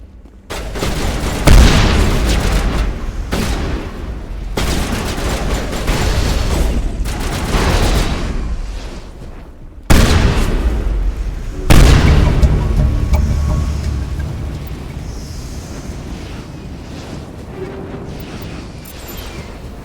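Heavy gunfire and booming explosions fill a video game battle, with sustained rapid bursts and loud blasts repeating over twenty seconds and sharp new impacts near the middle.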